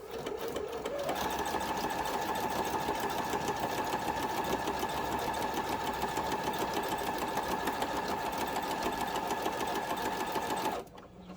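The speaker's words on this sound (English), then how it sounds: "So let's head to the sewing machine and stitch that down." A sewing machine stitches fabric steadily for about ten seconds, a continuous motorized whir with rapid needle stitching, then stops abruptly near the end.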